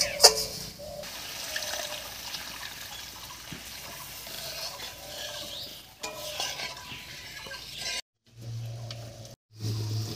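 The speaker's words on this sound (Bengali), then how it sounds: "এবার এর মধ্যে জল দেব।" Water poured into fried spice masala in a pan, a soft bubbling and stirring swirl that rises and falls, with a couple of sudden silent gaps followed by a steady low hum of liquid cooking.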